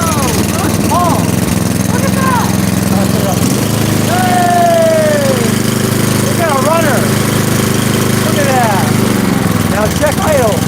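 A snowblower engine idles steadily and loudly throughout, its drone shifting slightly in pitch partway through, while voices speak over it.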